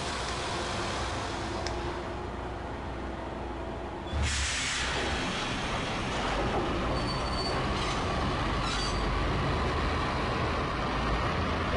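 A subway train in the video game Max Payne rolls along with a steady rumbling clatter and sustained wheel squeal, rising a little louder partway through, with no talking.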